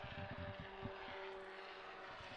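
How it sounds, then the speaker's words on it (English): A propeller airplane passes overhead toward the Roseburg Municipal Airport during a Thursday-night boys lacrosse game, a steady droning engine hum that fills the whole stretch, with faint thumps and crowd noise underneath. "Airplanes flying overhead, heading to the Roseburg Municipal Airport"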